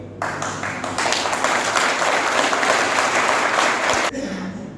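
An audience at a success training seminar breaks into loud applause, many hands clapping densely for about four seconds before it cuts off abruptly, with the room quieting afterward.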